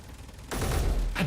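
Artillery turret fire in the space combat game Space Engineers: after a quiet half second, a sudden loud sustained roar of gunfire rumbles with a second burst at the end.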